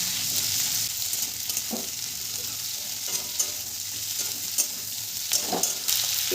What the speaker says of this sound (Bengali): বাড়িয়ে দিয়ে ক্যাপসিকাম পেঁয়াজটা একটু হাই ফ্লেমে ভেজে নেব।